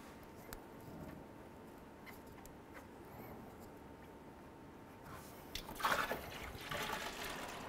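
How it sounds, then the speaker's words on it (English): Coolant drains from a removed lower radiator hose on a 2008-16 Chrysler Town & Country, a faint trickle under quiet background that swells into a louder splashing burst toward the end. "Keep in mind that coolant is going to come out of this"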